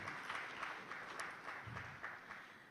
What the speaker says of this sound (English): Round of applause for those amazing hubs.